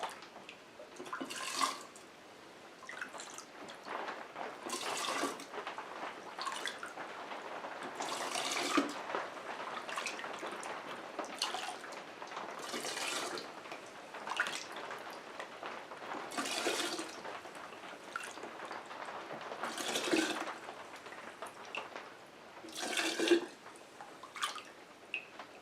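Liquid for peach moonshine is poured into containers in a series of soft, splashing fills separated by brief pauses, faint and close, with gentle trickling and no talk.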